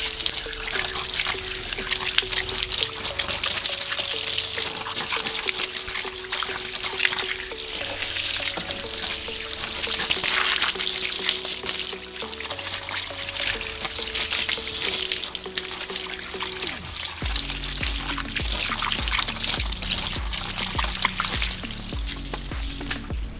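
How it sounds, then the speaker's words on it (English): Garden hose spraying water over a car tyre and rim: a continuous hiss and splatter of water hitting rubber and metal, steady and close throughout, with background music playing underneath. "I will use just the hose. And now we wash the tire."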